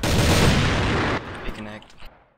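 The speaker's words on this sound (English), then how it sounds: "Grenade!" A video game grenade explodes in one loud, dense blast that rumbles for about a second before cutting off, followed by fainter scattered impacts and shots.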